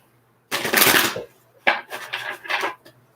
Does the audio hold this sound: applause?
no